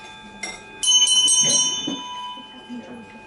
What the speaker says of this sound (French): cloche